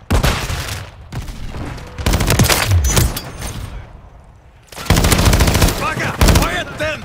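Bursts of automatic gunfire and shots in the Call of Duty 3 video game, loud and sustained in rapid volleys with short pauses, mixed with battle noise and shouted voices.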